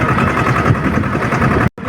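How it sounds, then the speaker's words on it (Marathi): A tractor loaded with onions rumbles steadily on the road to market, a loud, close engine drone that cuts out briefly near the end. "कांद्याचा ट्रॅक्टर घेऊन चाललो आता सायकडा मार्केटला"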